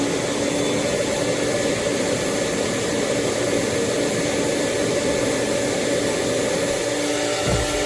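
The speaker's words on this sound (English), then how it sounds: "let's turn the vacuum back on and see what happens now" A shop vacuum hooked to a Onefinity Foreman CNC router runs with a loud, steady, unbroken roar and a whining hiss, with no talk over it.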